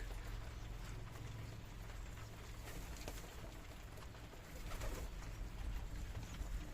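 Pigeons coo softly in a loft as they feed, a low murmuring bird sound that runs steadily under constant background noise and a low hum.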